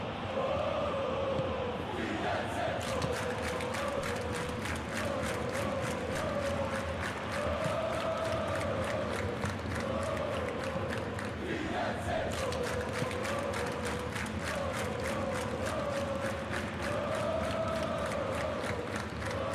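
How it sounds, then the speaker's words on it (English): A loud stadium crowd in a football video game roars and chants continuously during a Fiorentina Serie A match, with rising swells of cheering and a rhythmic clatter running underneath throughout. "Maybe the crowd will stay a little quieter next time."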